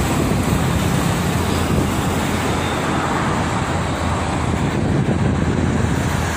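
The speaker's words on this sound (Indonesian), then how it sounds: "Hampir setiap hari ada aja bis-bis baru yang melintas." Heavy traffic roars steadily past on the Jakarta-Cikampek toll road in the morning, buses and trucks blending into a continuous loud rumble with wind noise and no distinct gaps.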